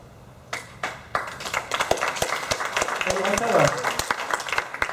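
A few scattered claps build into broad applause from an audience at a community meeting on wildfires in Wildwood and Village Mills, Texas, with speech heard over it.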